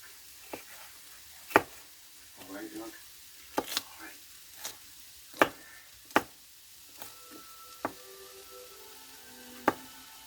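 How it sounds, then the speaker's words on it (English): Knife slicing vegetables into thin julienne strips on a cutting board for fajitas, several sharp separate chops spaced irregularly, close and fairly quiet, no talking. "now I'm just going to take this and just make some julienne, which are little strips like this"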